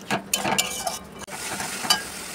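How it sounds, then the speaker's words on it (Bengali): Sour yogurt stirred into frying spices and oil in a pan for a cauliflower rezala, giving scraping stir strokes over a steady close sizzle, with no talk. "এবার টক দইটা দিয়ে দেবো।"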